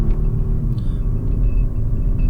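A deep, steady engine rumble from inside a Kia Stinger GT at half throttle, loud and continuous, with a faint high whine above it.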